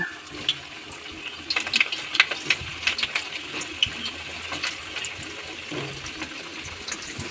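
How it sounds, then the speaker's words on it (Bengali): Potato pieces fry in hot mustard oil, giving a soft crackle and spatter of popping bubbles that builds in the middle and stays fairly close. "এবার আমি এক এক একে আলুগুলো ভেজে নেব"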